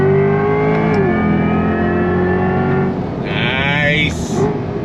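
Chevrolet C8 Corvette E-Ray, a 2024 hybrid, accelerating hard from third gear: a loud, close engine roar climbs steadily in pitch, then a brief gearshift and renewed rising pull near the end.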